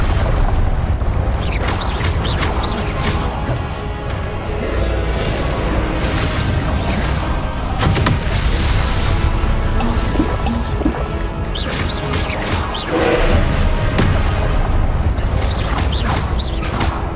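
Confringo and Expelliarmus spells cast in the Hogwarts Legacy video game, a dense, loud wash of crackling magical blasts and deep booms layered continuously, with brighter bursts flaring repeatedly across the whole stretch.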